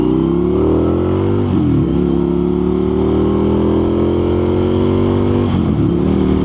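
An Indian FTR 1200 motorcycle pulls hard from 40 to 80, its engine droning loud and steady with a brief dip for a gear change near the start and another near the end.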